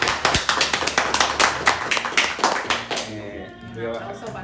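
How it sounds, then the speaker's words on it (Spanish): An audience applauds for a guest at a talk event: a fairly close burst of rhythmic, quick clapping that fades out after about three seconds into quiet room tone with a voice beginning. "Un fuerte aplauso."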